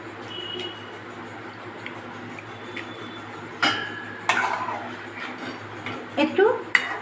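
A spoon stirs soaked aromatic rice into milk in a pot for kesari payesh, giving soft scraping and intermittent metallic clinks and taps that grow busier in the second half, over a low steady background hum.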